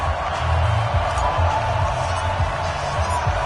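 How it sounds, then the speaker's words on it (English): A steady, roaring stadium crowd in a PS4 football game before a Tennessee Titans versus New England Patriots matchup, a constant wash of noise with faint swells under it. "This crowd is ready as their guys get set to match up between the Tennessee Titans and the New England Patriots."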